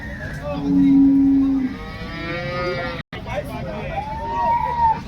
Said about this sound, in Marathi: चांगल्या क्वालिटीची गाय याच्या टॉप क्वालिटी मध्ये आहे